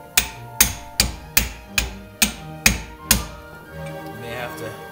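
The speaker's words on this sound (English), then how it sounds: "Put that little fitting on the bottom, and then just kind of tap it into place." Seven sharp, evenly spaced taps ring out close by as a small compression fitting is knocked into place on a 1995 Chevy Suburban, each hit decaying quickly, followed by a quieter moment with faint background sound.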